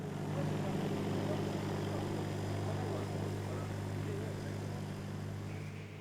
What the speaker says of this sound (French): Son prototype d'avion thermique transformé en électrique s'apprête à faire son premier vol